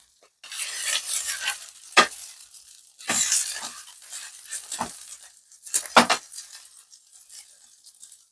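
A Korean pajeon pancake fries in a hot pan on fairly high heat with bursts of crackling sizzle, broken by several sharp scrapes and taps of a spatula as it is turned.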